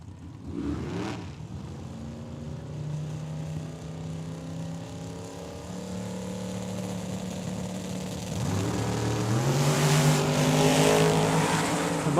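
Boosted Mustang and Camaro launching side by side in a drag race at a dragway, engines roaring through rising gear pulls, tire chirp at the start and a louder surge late as the cars accelerate away.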